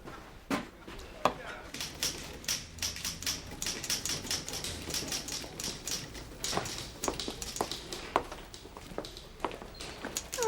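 A typewriter is typed on in bursts of sharp clacking keystrokes with irregular rhythm and occasional heavier strikes, close and clear, with a voice faintly present.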